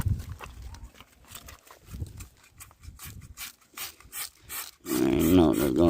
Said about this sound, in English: I'm just gonna lather the wheel up real quick, let it sit.